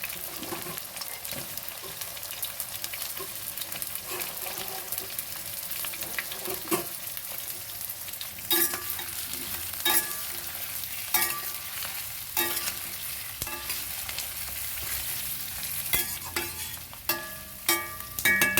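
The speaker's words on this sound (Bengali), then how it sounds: "আমি আলু আর পেঁয়াজটা একসাথে ভেজে নেব" Potatoes and onions frying in hot oil with cinnamon and whole garam masala, a constant close sizzle broken by the scrape and clatter of a spoon stirring the pan at intervals.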